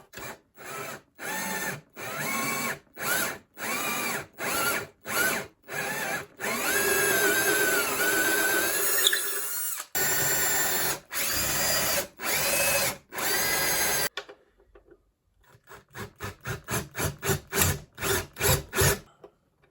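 Repeated bursts of a power drill biting into the wooden center block of a 1963 Epiphone Professional guitar, several short pulses, then a long continuous run, then a rapid series of quick stuttering bursts.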